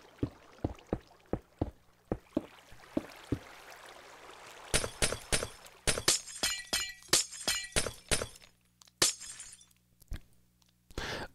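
Blocks, mostly glass, broken one after another in Minecraft: a quick run of sharp clicky hits, then denser bursts of bright shattering with brief pauses between, close and alone without talk.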